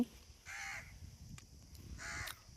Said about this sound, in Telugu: పక్కన కొంచెం కాకులు అరుస్తున్నాయి